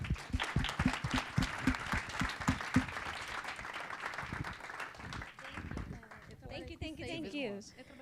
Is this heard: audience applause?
yes